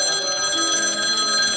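A telephone rings continuously, a steady electronic tone held at an even level throughout with no voices.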